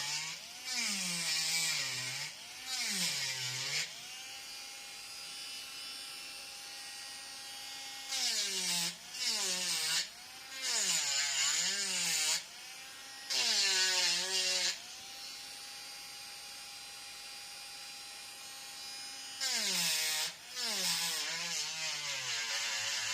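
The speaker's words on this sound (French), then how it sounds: "je suis dans la résine. Donc, j'ai un peu plus de mal à poncer" A power sander works a resin seahorse sculpture in repeated bursts of high, buzzing whine, its pitch sliding up and down as pressure changes, separated by quieter idling stretches.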